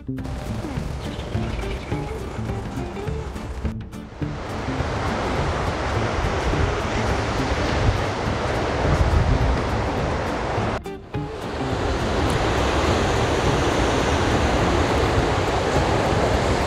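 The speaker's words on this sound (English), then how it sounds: "This is Ironwoods Beach," Ocean waves at Ironwoods Beach on the Kapalua coastal trail in Maui, heard as a loud, continuous surf roar mixed with gusty wind buffeting the microphone, with two brief dropouts.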